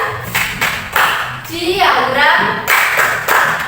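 Schoolchildren in a fourth-grade class perform a rhythmic clapping chant about bar diagrams, sharp claps in a steady pattern mixed with chanting voices, close and fairly loud.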